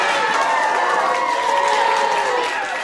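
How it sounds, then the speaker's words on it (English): A small group cheers and applauds to welcome a guest, a bright continuous wash of whoops and clapping at close range for about three seconds. "Please welcome to the podcast, Dr. Emily King. Round of applause."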